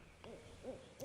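Owl hooting in the video game Kentucky Route Zero: three soft, rounded hoots spaced about half a second apart over a quiet ambient background.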